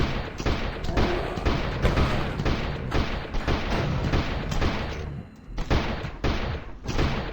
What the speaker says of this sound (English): Firing 50 caliber standing from the shoulder is a bit like getting kicked in the fucking shoulder